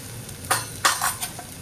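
Spices with turmeric, red chilli powder and salt stirred into tender kantoli vegetable in a pan, with a few short scraping strokes over a low sizzle.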